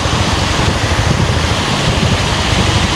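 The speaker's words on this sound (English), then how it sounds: "There's a lot of water coming through there" A steady, loud rush of water pumped through a 4-inch PVC pipe into steep gold-mining sluices in Indonesia, a dense continuous roar with no break.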